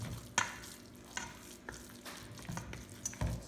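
Siomai filling of ground meat mixed with cornstarch by gloved hand in a bowl, soft squelching and slapping pulses at an uneven pace with a few sharper knocks, close and fairly quiet.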